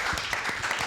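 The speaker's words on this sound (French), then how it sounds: "On va également les applaudir ce soir." Audience applause at an evening televised game show, a steady dense wash of clapping sustained throughout at moderate level, with a faint voice underneath.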